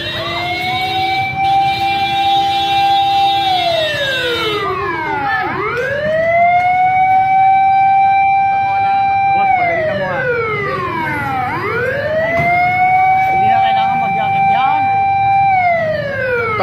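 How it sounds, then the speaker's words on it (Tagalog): A fire truck siren wails loud and near at a car fire in a village street, long rising and falling sweeps repeating steadily while people talk underneath. "Ayan yung bombero."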